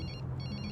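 A phone ringtone chirps in a Hindi film scene, a brief electronic trill repeating in quick pulses and heard alone without speech.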